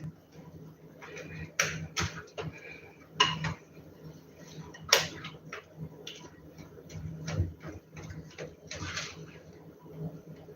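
Drop doughnut batter being mixed in a bowl, with irregular clinks and scraping knocks of a utensil against the bowl, close and moderately loud, while a voice talks quietly underneath.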